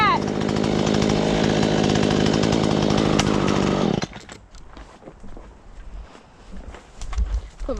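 A Husqvarna 120 Mark III chainsaw runs loud and steady at close range for about four seconds, then cuts off abruptly, leaving quieter outdoor rustling and faint movement.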